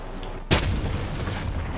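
A single sharp, loud gunshot or blast from the Warzone video game cracks out suddenly and leaves a rumbling, noisy tail behind it. No voices are heard.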